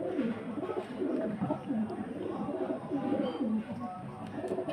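A male and a female pigeon coo in low, repeated rolling phrases at close range, steady throughout against a soft background, with no one speaking.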